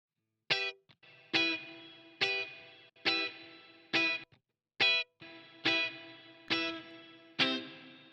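Guitar through a HoRNet Springverb spring reverb, mixed with a plate reverb: about nine plucked notes in a steady rhythm, each ringing with a drippy, splashy tail before cutting off, clean and solo.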